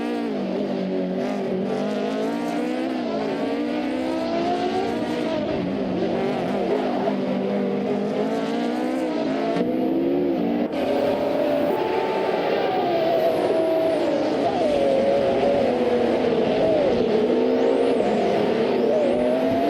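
Race cars including a Jaguar XJ220 and a McLaren F1 GTR roaring through a video game race, engines loud and close with rising and falling revs as they shift gears, continuous throughout without talk.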